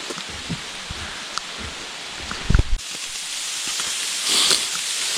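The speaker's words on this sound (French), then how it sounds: "Alors il pleut." Steady rain hisses softly outdoors on a path in South Korea, with scattered drops and a few brief rustles and thumps nearby.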